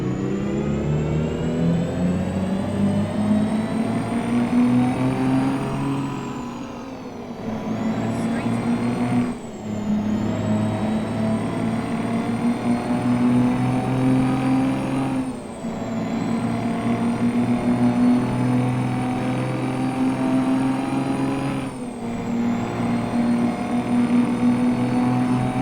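Mack R truck with a two-stroke diesel engine in American Truck Simulator, droning loudly and continuously under load with a manual gearbox, revs climbing steadily then dropping sharply at each of several gear changes.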